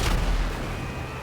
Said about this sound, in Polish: Ma wybuchowe działko.